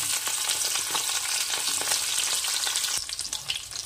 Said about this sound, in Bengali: ওই কড়াইয়ে আবার একটু তেল দিয়ে তেলটা গরম করে উচ্ছেটাকে ভেজে নেব